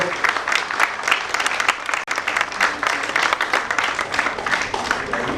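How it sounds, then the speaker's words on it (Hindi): Hearty audience applause at a literary celebration honouring Dr Kunwar Bechain and Smt Santosh Kunwar, dense and sustained clapping from a large crowd with a brief dip midway, no clear voices over it. "देखिए, तालियां आप भरपूर बजाइएगा इस उत्सव को।"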